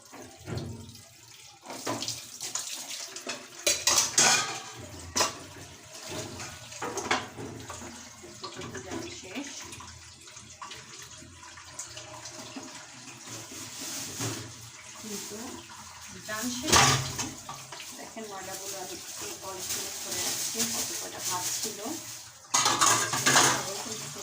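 Dishes, pots and cutlery washed under a running kitchen tap: steady water flow with repeated clinks and clatters of metal and crockery, sharper bursts around the start and the end, and occasional faint talk.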